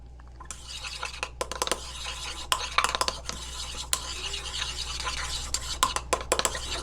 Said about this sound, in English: make sure you mix it very well.